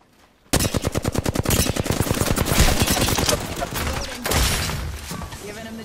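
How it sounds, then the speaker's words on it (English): Rapid automatic gunfire rattles out in a video game firefight, a close, loud burst of evenly spaced shots followed by continued heavy firing and impacts for several seconds. "Taking fire!"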